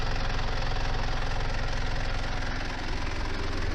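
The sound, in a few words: Mitsubishi Pajero engine idling in the cold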